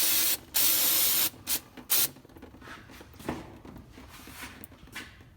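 Brake cleaner aerosol sprayed onto the rear axle parts of a 1988 Dodge Ram, with two loud close hissing bursts followed by shorter intermittent spurts and faint handling noises, no talking.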